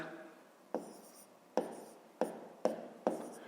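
A pen writes numbers on paper by hand while working a long division of 85.2 by 6. Five quiet, distinct strokes and taps come close to the microphone, spaced under a second apart, with faint scratching between them.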